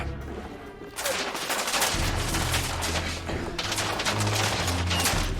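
Sniper and other gunfire crack during a fight in The Order: 1886, a dense, loud barrage of shots and impacts that intensifies after the first second and keeps going to the end.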